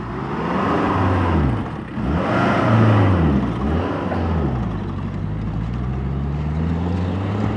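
A vehicle in four-wheel drive pulls away over rough ground on a trip out to farmland for hunting, its engine loud and close, revving up and easing off in repeated swells, with no talk.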